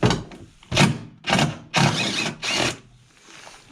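An impact wrench removes two 10mm bolts on a 2007 VW Beetle in a workshop. About five loud, close bursts of rattling hammering come with short pauses between them, and no one talks.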